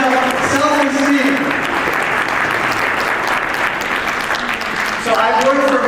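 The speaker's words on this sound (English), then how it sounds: "Give yourselves a big round of applause" An audience at a Pakistani physicians' society gala applauds in a loud, sustained wave of clapping, with voices heard at the start and again as it fades.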